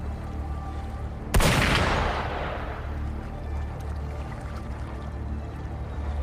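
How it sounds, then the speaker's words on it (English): A single sharp gunshot blast in the video game Wuthering Waves, followed by a rumbling decay under a steady low background hum. "Gunfire!"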